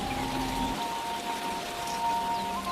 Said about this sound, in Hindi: रास्ते में जोरों की बारिश